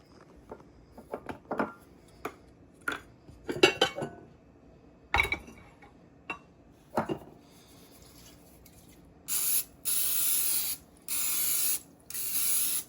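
Cooking spray hisses into a crock pot to grease it for an egg casserole, three steady bursts near the end after a series of clinks and taps of dishes and utensils, close and fairly loud with no talking.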